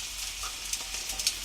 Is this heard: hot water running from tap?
no